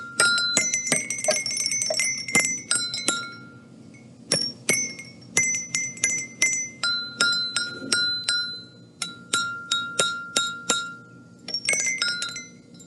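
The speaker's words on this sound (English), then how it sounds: "they're called Tibetan prayer bells" Bright metallic Tibetan prayer bells strike repeatedly in uneven clusters, clanky rings overlapping with short sustained tones, close and fairly loud.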